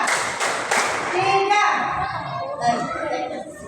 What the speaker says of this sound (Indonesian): Sekali lagi tepuk 1, tepuk 2, tepuk 3